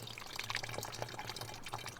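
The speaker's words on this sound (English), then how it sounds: "carefully pour it back into the enhancer bottle" Lukewarm water being poured carefully from a container back into a hair-care enhancer bottle, a continuous close trickling and splashing stream with small bubbly gurgles, no voices.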